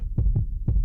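Human heartbeat, close and muffled, with low thumping beats in a steady double rhythm across a short span, no voices.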